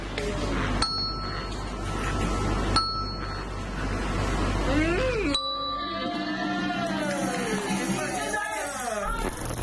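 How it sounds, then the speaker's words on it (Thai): Bright ringing rainbow bell tones are struck one after another as do, re, mi, each ding sustaining and overlapping, with sliding whistle-like tones following the last strike. "เขาก็จะใช้เรนโบว์เบลเนี่ยเคาะเป็นเสียงโดเรมี"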